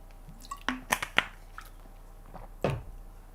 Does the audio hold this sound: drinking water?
yes